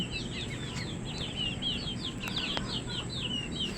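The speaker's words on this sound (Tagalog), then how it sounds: "nagsipagsunodan sa akin ng aming mga alagang sisiw" Pet chicks peep as they follow along outdoors, a steady stream of high, rapid chirps from several birds close by, with no talking.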